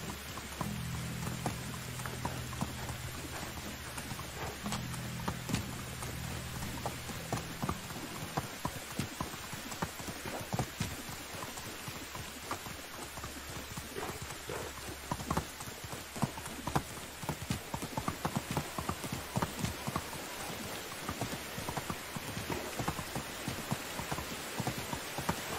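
A horse's hooves clip-clop in the medieval farming video game Medieval Dynasty, a steady run of close, crisp hoofbeats that continues throughout over a soft rain-like hiss.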